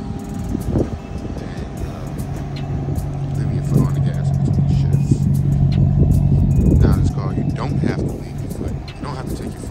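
A Maserati GranTurismo being driven, its engine note building into a steady, prominent hum through the middle of the drive and then easing off as the throttle lifts, with a voice heard at moments.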